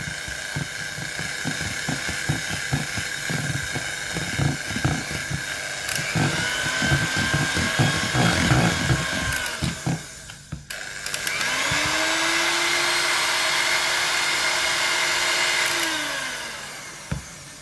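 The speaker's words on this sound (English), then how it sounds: "And we'll go back in with the mixer, just on low, just to combine the vanilla." An electric hand mixer whirring on low speed as it blends vanilla into cake batter for a Victoria sponge, a loud close motor drone with clattering beater noise that briefly stops, then resumes with a steady pitch.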